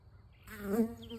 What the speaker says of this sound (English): Those are the squash bees.